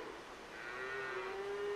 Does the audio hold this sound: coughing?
no